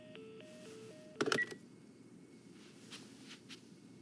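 In The Last of Us Part I, a telephone keypad plays a quick run of dial tones, followed by a brief clatter of handset handling, then quiet room tone with faint distant noises.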